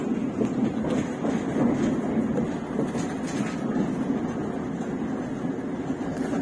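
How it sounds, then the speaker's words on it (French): A tram runs on line T1 in Nancy, giving a steady low rumble with faint clicks and rattles throughout, continuous and moderately loud with no talk. "Le tramway est toujours un peu lent de ce côté-là parce que c'est quand même des travaux."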